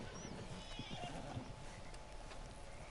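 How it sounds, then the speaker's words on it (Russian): A horse whinnies in the open-world western video game Red Dead Redemption 2, a faint neigh set within a dense game soundscape with hoof clip-clops and ambient noise. "Откуда тут вторая лошадь?"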